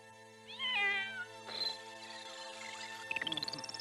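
A cat in the 1974 anime series Space Battleship Yamato meows several times, clear and close, with a rising, drawn-out call at the end over a steady background hum.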